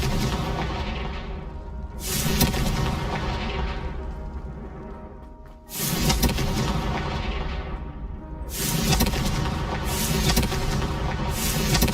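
Repeated Confringo fire-spell blasts from the Hogwarts Legacy video game, heavy booming bursts around 2, 5.5 and 9 seconds over a continuous loud roaring game soundscape with no speech.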